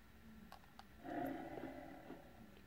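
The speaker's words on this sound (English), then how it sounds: "they need to stop making the lion noise" A lion roars in the Tomb Raider PS1 game, a rough, rumbling growl that swells after a couple of faint clicks and holds at moderate loudness for over a second before fading.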